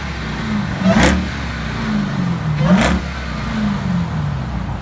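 A brand new Jeep Grand Cherokee Trackhawk SUV engine runs at a steady idle and is blipped twice into short revs, each rising then falling back, heard nearby with no talk.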